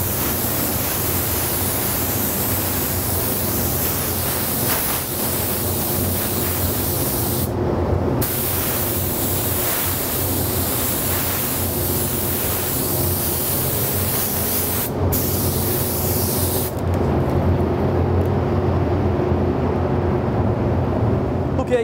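Spray gun laying down a third and final coat of candy fade paint, a steady loud hiss running almost continuously, broken by a few brief pauses between passes.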